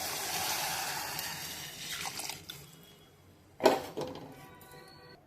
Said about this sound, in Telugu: ఒక కప్పు బియ్యం అరకప్పు పెసరపప్పు మూడు గ్లాసుల నీరు తీసుకున్నానండి ఇందులో పోస్తున్నాను